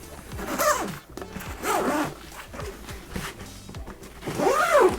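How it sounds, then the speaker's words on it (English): Zipper pulled closed on a pouch of a Nomatic camera bag, several quick rasping zip strokes in a row, close and crisp, with faint background noise between pulls. "Let me go ahead and just zip this back down."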